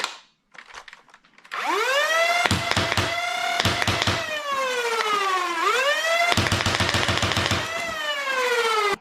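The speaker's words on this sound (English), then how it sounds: "Now I'm going to fire a couple shots in 3-round burst and then full auto." Dart Zone Max Omnia Pro foam blaster, second-generation version, firing a few three-round bursts and then full-auto strings, with a loud rising and falling motor whine between rapid clusters of dart shots.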